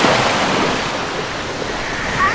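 Water splashes and pours down like rain at a water park, a loud, continuous rushing hiss that fills the whole moment without a break.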